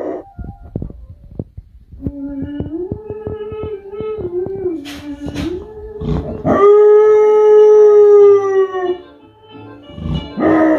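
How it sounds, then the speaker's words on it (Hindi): A pet dog that belonged to a singer howls and cries in rising, wavering wails. It ends in a long, loud, sustained howl, with a few soft knocks and thumps around it. "उनके पालतू कुत्ते ने कैसे रो रो कर बुरा हाल कर लिया।"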